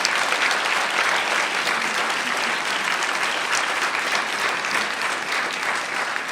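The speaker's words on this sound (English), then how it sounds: "Can you all help me give another round of applause to our wonderful lecturer, Zahir Ali?" Audience applauding after a lecture, with sustained, even clapping from a sizable crowd that holds steady for several seconds at moderate loudness and fades slightly toward the end.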